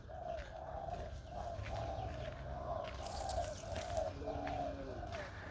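Pigeons coo at nests on top of a cabinet indoors, soft repeated rhythmic coos in a steady series, fairly faint, with a few light rustles and no talking.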